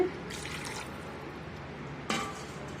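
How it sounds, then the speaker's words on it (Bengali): Water is poured into a pot of spiced mutton and potatoes, two short, soft splashing bursts over a quiet kitchen background. "পানি দিয়ে দিচ্ছি।"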